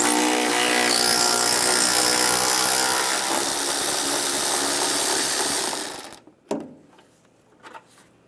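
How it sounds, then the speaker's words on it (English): Continuous buzzing whir of a power driver with a 10mm socket backing a bolt out while replacing the windshield washer reservoir on a 2005-2010 Dodge Dakota, running for several seconds, then stopping, followed by a couple of small clunks. "Using a 10mm socket, take this bolt out."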